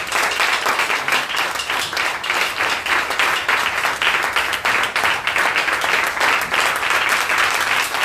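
A church congregation applauds and cheers for Jesus at a worship service, steady dense clapping with crowd noise filling the whole stretch, loud and close.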